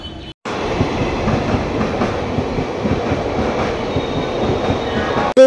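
A local train rolls into a crowded station platform, its steady rumble and rail clatter loud and continuous for about five seconds, cutting in and out abruptly at the start and end.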